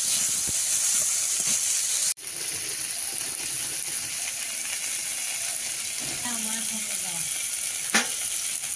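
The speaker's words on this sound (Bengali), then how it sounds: "পেঁয়াজটা ভাজা ভাজা হলো আর আমটা দেবো।" Onion and sour mango fry in a pan with oil, a loud continuous hiss and sizzle with a sharp break early on and a clatter of stirring near the end.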